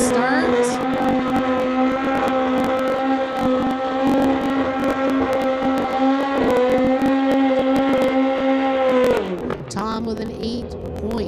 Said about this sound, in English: 2017 Suzuki called the Kraken. He's going against Corey Craig